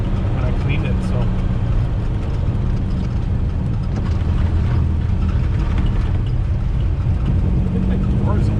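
A pink 1969 Volkswagen Beetle running while driving on its first outing in 14 years, a steady loud low engine drone with road rumble throughout, close and continuous.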